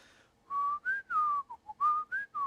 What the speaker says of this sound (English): I was whistling the Jeopardy theme song.